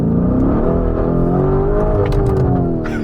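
A Lamborghini Urus fitted with a Bugatti-style interior roars as it accelerates on a wet road, the engine note climbing steadily and loud and close throughout, with no talk over it.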